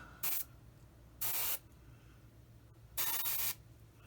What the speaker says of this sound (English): Now, a lot of this that I'm spraying is not even going to be seen, but spray it anyway.